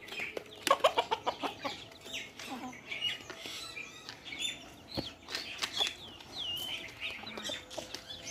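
Guinea fowl on a chicken farm giving sharp, repeated clucks and calls in irregular bursts, fairly faint, with a person speaking briefly in the background.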